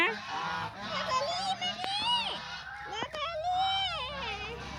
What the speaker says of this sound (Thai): อันนี้ที่ฟาร์มเป็ดบาร์เบอรี่นะคะ